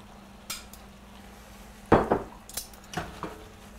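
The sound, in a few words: pasta with beef being tossed in a pan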